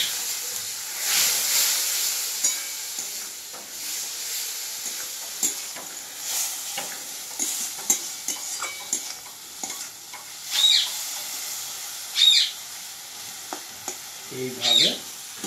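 Spices frying in a pan with a steady sizzle and hiss, broken by repeated scraping stirs that come in bursts, louder near the end, with no talking over it.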